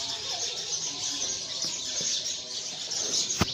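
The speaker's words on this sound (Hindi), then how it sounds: "शाम शुरू हो गया है और चिड़िया वगैरह की आवाज़ आ रही है काफ़ी ज़्यादा।" Evening chorus of birds, including sparrows, around a house in a residential neighbourhood: dense, continuous high chirping from many birds at once, steady and moderately loud, with a few sharp clicks near the end.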